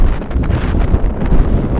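Strong wind buffets the microphone over Faxafjord Bay in Reykjavik, a steady loud roaring rush with gusty swells throughout and no voices.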